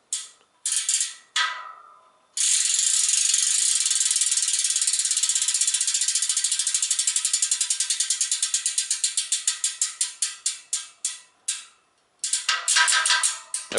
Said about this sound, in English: this is a very loud free hub